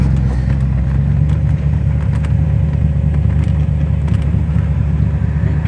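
Morgan Plus 8 fitted with Piper 270 camshafts, RPi ignition and ECU chip, driving on wet roads, its engine giving a loud, steady low rumble that holds close and continuous throughout.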